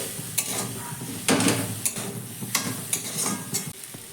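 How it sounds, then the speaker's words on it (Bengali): A vegetable filling fries in a pan while being stirred, with continuous close sizzling broken by several sharp scrapes and clacks of a utensil against the pan. "এবার ভালো করে আমি সব কিছু মিশিয়ে নেব"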